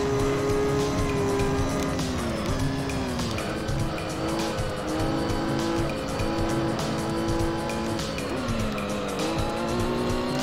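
Race car engine roaring continuously in the Gran Turismo 3 video game on the Monaco circuit, with shifting engine pitch, gear changes and tire squeal throughout, loud and steady with no talk.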